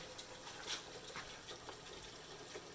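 Tap water runs steadily into a pan to melt leftover toffee from a batch of almond roca, a continuous close splashing gush with small surges and no voices.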